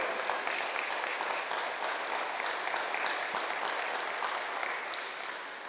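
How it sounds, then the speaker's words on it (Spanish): Sustained applause from a church congregation fills the space, a dense steady patter of many hands that holds at an even level and eases slightly near the end. "Un aplauso, por favor."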